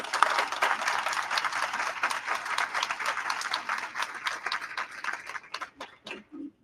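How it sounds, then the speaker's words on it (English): An audience at a board meeting applauding, a dense sustained patter of many hands clapping that thins out and fades toward the end, with a brief voice at the close. "I want to take this time now to give you a big round of applause"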